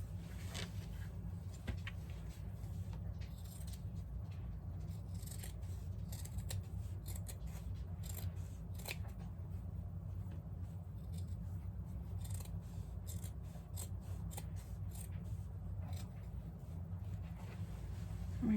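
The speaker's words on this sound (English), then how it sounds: "So I'm going to cut into that to get some of that bulk out of that" Scissors snipping through the bulky seam of a quilted fabric Christmas stocking, a long run of quiet, close, rhythmic cuts against low room hum.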